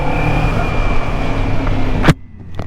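A Kawasaki Z400 motorcycle engine running loud and close, a sustained droning rev that holds steady, then cuts off abruptly near the end, leaving a quiet tail.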